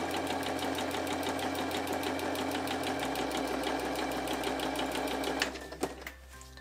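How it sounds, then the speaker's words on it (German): Sewing machine stitching quarter-inch seams on a Christmas patchwork quilt block, a steady fast rapid-fire needle chatter that runs continuously, then slows and stops with a few final clunks near the end. "Also ich nähe jetzt hier entlang."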